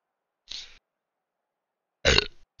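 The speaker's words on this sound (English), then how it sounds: "It was more like a salt and vinegar discos burp." Two burps after salt and vinegar Discos crisps, a short soft one followed by a louder, fuller one, close and alone in silence.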